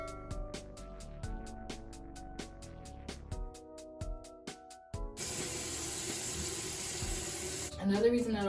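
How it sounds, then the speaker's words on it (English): Running water at a bathroom sink during a face wash with warm water, first as a patter of drips and splashes, then as a steady loud stream from the tap, with a voice talking over it. "it makes me feel like my skin is cleaner if I use warm water when I'm washing my face"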